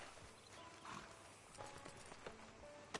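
Horse hooves clip-clop in the Red Dead Redemption 2 video game, a soft, steady walking rhythm under low game ambience with a few faint tonal sounds.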